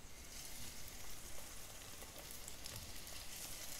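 Chicken popcorn pieces coated in cornflakes deep fry in hot oil, making a soft, continuous crackle and fizz like light rain. It stays fairly faint and even throughout, with no talking.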